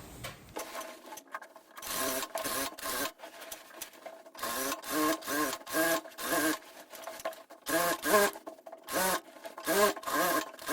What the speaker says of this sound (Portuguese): agora eu viro ela e volto passando a costura do outro lado